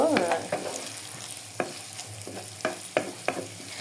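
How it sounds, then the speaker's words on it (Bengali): Onions and green chillies fry with dried fish in a pan, the soft sizzle punctuated by a series of sharp, close spatula scrapes and stirs arriving in irregular strokes. "এটা একটু ভেজে নিতে হবে কড়া করে, যাতে পেঁয়াজ আর কাঁচামরিচ এগুলো যাতে একটু হালকা পোড়া পোড়া আসে"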